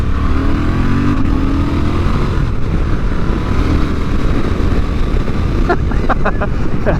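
2023 Honda Transalp XL750 middleweight adventure motorcycle ridden on the road, a loud steady engine drone buried in heavy wind rush, with a few brief clicks near the end.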